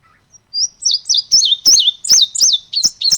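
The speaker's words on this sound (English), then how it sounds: "let's do the Indigo Bunting first" An Indigo Bunting sings a recorded song of about nine quick, high, sweet chirping notes in a steady, slightly accelerating series. The notes are loud and clear against a quiet background.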